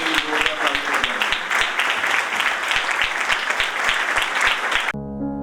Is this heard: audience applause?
yes